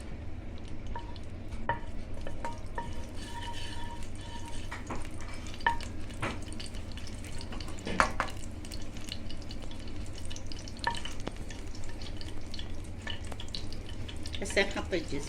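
Ghee melts and sizzles quietly in a pan before carrots go in for sweet carrot halwa, a steady soft fry with scattered clinks of a spoon against the pan.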